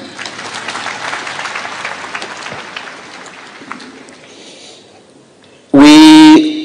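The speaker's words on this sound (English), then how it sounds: "Can we clap for them?" An audience at a gathering with Catholic bishops applauds former MPs and MCAs, a steady ripple of clapping that fades out before a sudden loud burst of other sound ends it.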